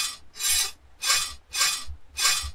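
A saw cuts through a hard padlock in a Vietnamese horror video game, five steady back-and-forth rasping strokes, close and even in rhythm, with no talking.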